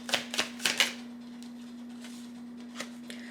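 Tarot cards drawn from a deck: four quick crisp card snaps close together, then a couple of faint slides, over a steady low electrical hum in a quiet room.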